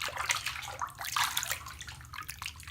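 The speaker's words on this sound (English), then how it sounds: "This balm did make quite a bit of foam, so this looks like it's going to make some bubbles." A bath bomb fizzes and foams in a filled bathtub, heard as a dense, close hiss of bubbling water with splashy movement running steadily throughout, with no talking.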